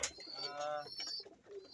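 A pigeon coos softly up close, a short throaty burbling call lasting a moment against quiet background noise.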